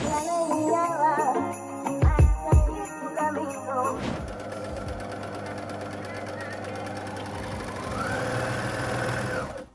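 A domestic sewing machine stitches swimsuit fabric, starting with music and a few thumps, then settling into a fast, steady mechanical whirring and clatter that runs on closely and evenly, with someone talking over it.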